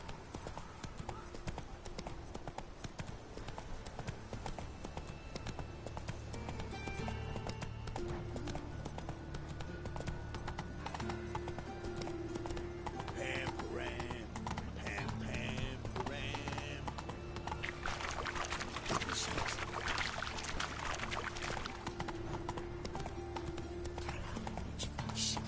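Hooves clip-clop steadily as the horse Roach gallops in The Witcher 3 video game, the rhythmic beats running throughout over game music and ambient sound.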